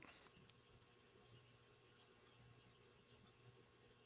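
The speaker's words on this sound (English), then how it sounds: "I hear the cricket." A cricket chirps in a steady, rapid pulsing rhythm, faint and continuous, heard near lights indoors with no one speaking over it.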